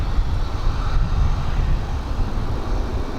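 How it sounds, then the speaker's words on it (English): Emirates Boeing 777 airliner at Dublin Airport, a steady broadband jet engine roar with deep low rumble, sustained and fairly loud throughout, with no other sounds. "We're ignoring that 737 because there is the beautiful Emirates 777."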